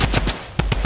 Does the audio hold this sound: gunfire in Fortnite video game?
yes